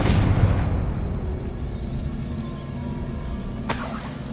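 A Confringo fire spell explodes in the Hogwarts Legacy video game, a loud booming blast with a sustained rumbling roar and a sharp secondary burst near the end, heard alone without talk.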